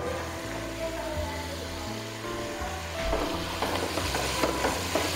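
Ginger garlic paste sizzles in a hot pan under a steady crackle while a spoon scrapes and stirs it, and the frying and scraping grow louder and busier toward the end.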